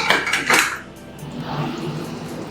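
Frozen green peas tipped into a metal pan for a matar mushroom dish, giving two bright clattering bursts of rattling against the pan, followed by a softer low sizzle and settling.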